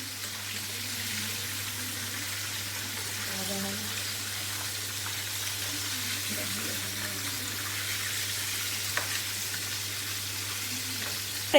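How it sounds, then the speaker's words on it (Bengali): Korean chili chicken drumsticks fry in oil with a quiet, steady sizzle and soft crackle that continues evenly in the background, ending with a brief clink. "আবারও ওপিট করে আর একটু ভেজে নিয়ে প্লেটে তুলে নেব।"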